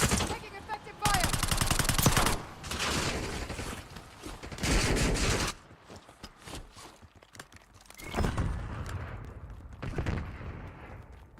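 Rapid automatic gunfire crackles in a military shooter video game, loud bursts alternating with brief pauses over about eleven seconds, with game voice callouts mixed in.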